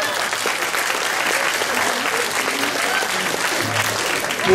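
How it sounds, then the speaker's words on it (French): A circus audience claps loudly and continuously at a show in Pougues-les-Eaux, a dense burst of applause that holds steady throughout, with a voice faintly underneath. "On les applaudit bien fort."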